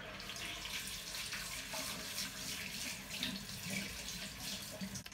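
Tap water runs steadily into a sink, with soft splashing as a toothbrush is rinsed under the stream, close by and without any talking.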